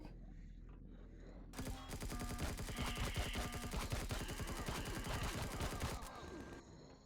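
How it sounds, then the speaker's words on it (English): Dense, sustained gunfire from enemies in Empyrion Galactic Survival, loud rapid bursts starting abruptly after a quieter stretch and continuing for several seconds before easing off. "Okay, we got somebody shooting us"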